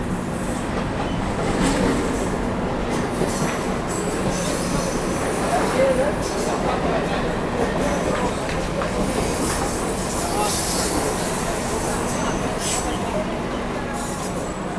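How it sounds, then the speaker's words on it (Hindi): The Maharashtra Sampark Kranti Express, Mumbai to Delhi, rolls into Borivali station. Steady wheel rumble and rail noise carry throughout, with squeals and clatter rising at moments, heard from aboard the train under a faint murmur of voices. "अपना अराइवल हो रहा है बोरीवली रेलवे स्टेशन पर दोस्तों"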